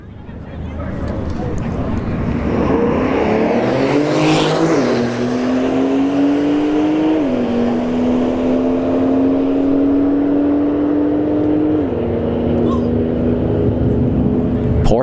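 A Corvette C8 and a Porsche 911 drag racing at a drag strip, engines roaring loudly with rising pitch and clear gear shifts as they accelerate, while an announcer talks over them.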